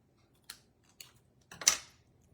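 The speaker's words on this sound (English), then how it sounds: "So I'm going to snip it" Scissors snip ribbon in a quiet setting while trimming a piece for a party piggy craft: a few separate crisp cuts, the last one longer and louder, close to the listener, with no talk.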